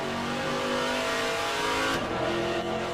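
Holden VK Commodore Group C touring car at Bathurst in rFactor 2, engine revving loud and close, rising in pitch before a quick shift and then climbing again.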